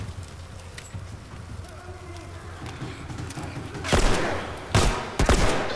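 Gunfire in The Last of Us Remastered, a few sharp loud shots near the end, the last two close together, over a low rumbling game soundscape.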